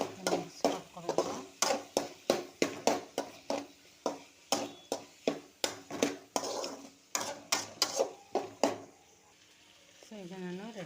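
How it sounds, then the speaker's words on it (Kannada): A spoon scrapes rhythmically around a bowl, mixing a vegetable bread snack with turmeric. About twenty close, sharp strokes, then a pause and a brief voice at the end. "ಸೊ ಅರಿಶಿನ ಹಾಕಾದ್ಮೇಲೆ ಚೆನ್ನಾಗಿ ಮಿಕ್ಸ್ ಮಾಡ್ಕೊಬೇಕು"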